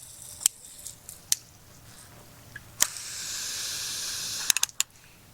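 Water spraying from a pressurized 10-gallon tank on a DIY overland vehicle: a steady hiss swells midway, broken by sharp clicks and taps of the nozzle, close and moderately quiet, with no talking.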